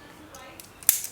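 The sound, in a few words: knife cutting tape on a box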